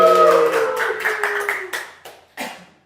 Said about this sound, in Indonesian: Sebelumnya tepuk tangan dulu dong buat Pulau Bali.